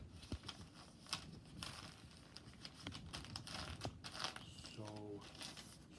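A sheet of paper being folded in half for a paper airplane, soft crinkles and creasing rustles coming close up and quietly throughout.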